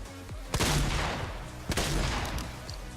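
Shotgun and rocket fire in a video game, two sharp loud blasts about a second apart, each followed by a booming rumble and ringing tail.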